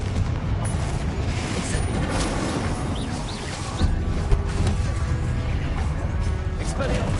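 Repeated Confringo fire-blast spells explode during a Hogwarts Legacy video game fight, a loud, continuous churn of booms and crashing impacts with a few sharper hits and a voice occasionally heard in the mix.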